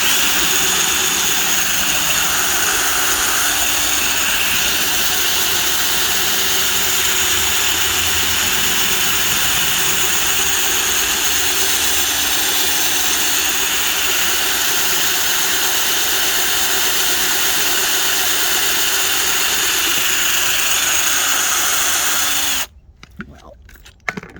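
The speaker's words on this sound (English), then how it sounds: "That drilled a hell of a lot faster than I thought it was going to." Power drill boring through a thick-walled plant container, a loud, steady high-pitched whine held for over twenty seconds before cutting off abruptly near the end.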